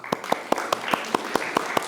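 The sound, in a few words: audience applause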